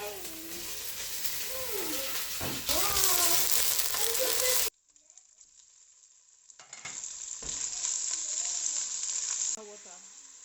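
Onion and garlic fry in a pan with a bright, steady sizzle and occasional stirring, dropping out abruptly mid-way and returning fainter after a short pause, with background music.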